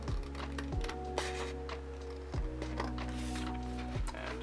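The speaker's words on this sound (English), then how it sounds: "So next thing, we're going to take our scissors and start cutting it out." Scissors cut through a thin cardboard sheet for a homemade indoor boomerang, giving a few separate crunching snips spaced across several seconds, close and fairly quiet.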